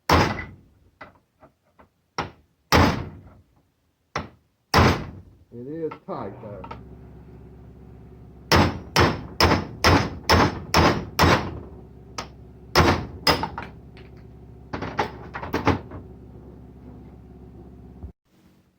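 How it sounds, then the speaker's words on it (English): A metal bar hammers against a control arm bushing on a 1990 Toyota SR5 pickup, giving sharp, loud, close knocks in irregular runs and quick clusters, with brief talk between blows. "Then I went in the backside with this bar, and you can knock it out."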